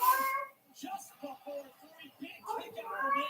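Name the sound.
cat in heat meowing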